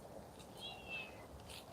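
A cat meows faintly a few times near an old imperial colored glaze kiln by a river, barely rising above steady outdoor background noise.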